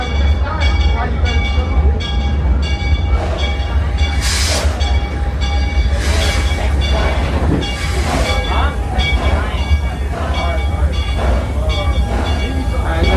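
Authentic steam engine hauling the Six Flags Over Texas Railroad ride, a continuous loud rumble of rolling cars with rhythmic wheel clatter and several bright bursts of steam hiss, with voices murmuring underneath.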